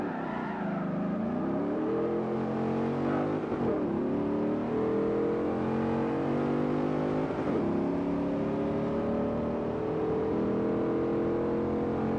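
Dodge Charger and Chevy Caprice police cars race in Forza 4, engines revving loud and steady with rising pitch sweeps as they accelerate and shift gears, no talking.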